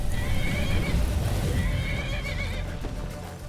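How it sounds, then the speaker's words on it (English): A horse in the video game Skyrim neighs and whinnies loudly and close by, with hoof clip-clops beneath, a sustained wavering cry that fades slightly toward the end. "Get out of the way, horse!"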